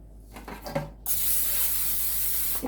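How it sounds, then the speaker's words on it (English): Cooking spray hisses onto a baking pan in one sustained, close burst after a few soft handling noises. "spray your pan"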